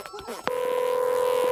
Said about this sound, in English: The trubbly phone is ringing.